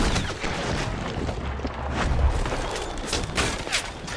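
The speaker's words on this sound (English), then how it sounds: "I'll have to shoot our way out." Gunfire in a Red Dead Redemption 2 shootout at Beaver Hollow, with dense overlapping shots and booming reports mixed over a rumbling background, loud and continuous, with no talking.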